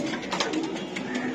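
Racing pigeons at a pigeon farm coo softly and steadily, a close, continuous murmur of throaty calls with no voices heard.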